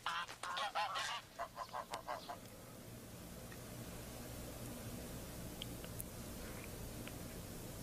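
A greylag goose honks several times in quick succession at the start, fairly near, then steady outdoor hiss with faint distant chirps.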